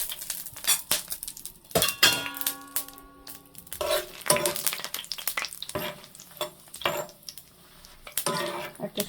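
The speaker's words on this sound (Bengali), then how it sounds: "তেলটা গরম হয়ে গেছে, আমি শুকনো ঝালগুলো দিয়ে দিলাম।" Dried red chillies dropped into hot oil in a pan for spicy data saag, crackling and spitting in bursts alongside clinks and scrapes of a utensil against the pan, fairly close.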